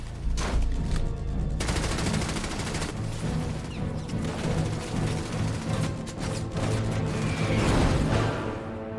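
Dense gunfire from German forces in a World War II battle near Caen, loud and continuous with overlapping rifle and machine-gun bursts crackling through the whole stretch, no talk over it.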